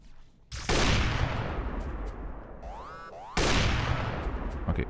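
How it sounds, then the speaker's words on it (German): Defensive gun turrets in a modded game of Factorio firing continuous dense rapid volleys, loud and sustained. A short pause falls in the middle while rising mechanical tones sweep upward, then heavy fire resumes. "Türme schießen ist okay."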